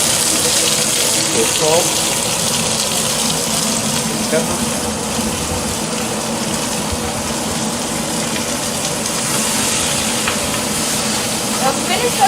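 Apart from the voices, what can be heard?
spinach crackling as it cooks in a pan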